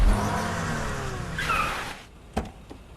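A car accelerates hard to ram into another car, its engine revving loud and close for about two seconds before cutting off, followed by a couple of brief knocks.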